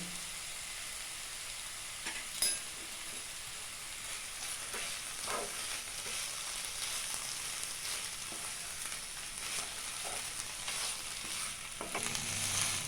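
Spinach sizzles and fries steadily in a pan while being mashed and stirred for Bengali-style palong shak shukto, with a few soft scraping knocks over the continuous hiss.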